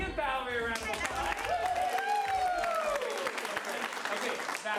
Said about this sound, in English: Give Valerie a round of applause.